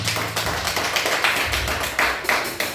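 Congregation clapping at an Easter Sunday church service, a dense run of hand claps with a few louder bursts over a low rumble, close and sustained for a few seconds with no speech.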